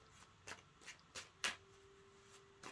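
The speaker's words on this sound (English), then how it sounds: "As I was shuffling, it just popped on out." Tarot cards are shuffled by hand in short, quiet riffling bursts, about five soft flicks spaced across a few seconds in a hushed room.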